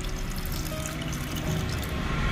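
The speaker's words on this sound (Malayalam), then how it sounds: "ഞാൻ വെള്ളം ഈ കടലയുടെ മുകളിൽ നികക്കെയാണ് ഒഴിച്ചു കൊടുത്തിരിക്കുന്നത്" Water pours steadily over soaked chickpeas in a pressure cooker, a soft continuous splashing trickle, fairly quiet and alone with no talk.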